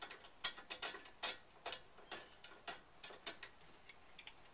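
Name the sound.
hex nipple fitting being screwed onto spear gun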